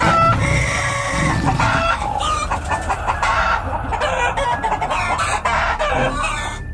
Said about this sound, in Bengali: মুরগিগুলো এরম ভাবে ডাকছে কেন?